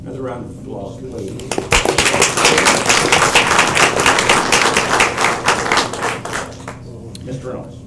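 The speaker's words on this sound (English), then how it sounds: "Another round of applause, please." Applause at a city council meeting swells into dense, sustained clapping from a room of people for several seconds, fading near the end, with faint voices underneath before and after.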